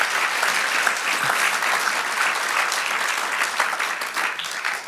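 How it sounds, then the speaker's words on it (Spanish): Sustained applause from a sizable church congregation, steady and fairly loud, fading slightly toward the end. "Dale aplauso al Señor."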